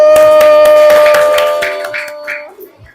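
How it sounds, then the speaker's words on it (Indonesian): Children in a classroom clap together for the first group, a run of sharp, loud claps over about two and a half seconds that fades out at the end. "Mari tepuk tangan dulu buat kelompok 1."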